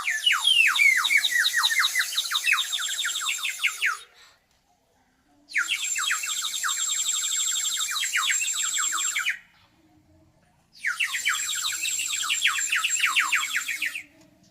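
A water-filled bird whistle, blown by a teacher in a government school, trills in three long bursts of bright warbling chirps separated by short silences, loud and close.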